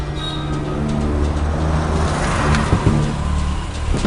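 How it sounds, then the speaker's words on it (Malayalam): A car in a Malayalam action film slows and pulls over to the roadside, a steady low engine and road rumble holding even, with a few soft bumps near the end and no voices. "വണ്ടി ആ സൈഡിലേക്ക് ഒതുക്കി."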